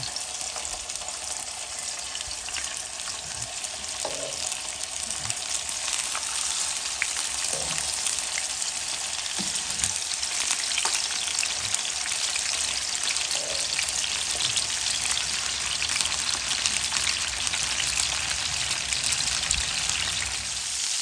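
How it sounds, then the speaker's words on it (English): Steady, bright sizzling of halibut searing in a hot pan, continuous and close, with occasional soft pops and scrapes. "Get that nice sizzle in there."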